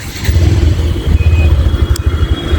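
A motorcycle engine drones loud and close during a ride through a crowded city street at a Ganesh immersion festival, with steady low rumble, wind buffeting and a brief clatter, no talk.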